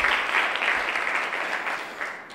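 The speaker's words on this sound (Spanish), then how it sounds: "Pues ha ganado María Ángeles, le damos un aplauso, ha ganado por 5." A short burst of clapping from a small group, steady and close, fading slightly toward the end.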